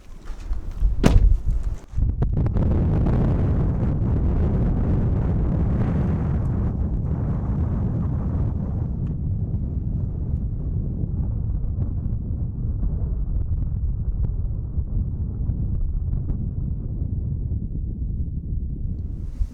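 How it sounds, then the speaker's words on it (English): Strong wind buffets the microphone at a dispersed desert campsite on Alstrom Point, a steady loud roaring rush with a few heavy thumps near the start, sustained and alone without talk. "It's also still extremely windy."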